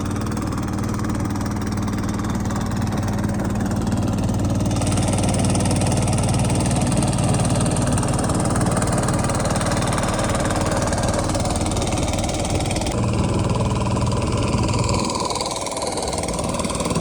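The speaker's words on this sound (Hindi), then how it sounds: "हाँ जी इंजन स्टार्ट हो गया" A machine engine runs steadily and fairly loud throughout, a constant rumbling drone at a bridge construction site near Mirpur, Azad Kashmir, with no voices over it.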